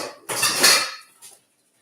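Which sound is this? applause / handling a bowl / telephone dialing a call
handling a bowl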